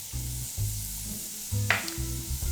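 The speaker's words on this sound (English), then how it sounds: "I'm just going to sweat the onion" Chopped onion sizzling and sweating in a hot pan for a plant-based vegan gravy, a steady close frying hiss with occasional stirring scrapes and soft pops, no voices.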